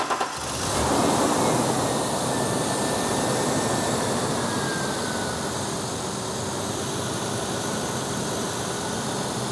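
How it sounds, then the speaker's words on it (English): Engine of a 1998 Ford car starting and then running at a steady idle, a close, constant hum and hiss that holds evenly after a brief start-up burst. "Go ahead, start the vehicle."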